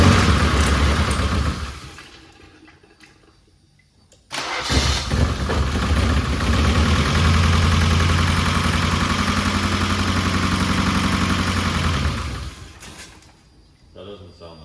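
A Nissan 240SX single-cam engine, sitting unused for 20 years, cranks and catches after a quiet pause, then settles into a loud, steady idle with a noisy valvetrain for several seconds before shutting off.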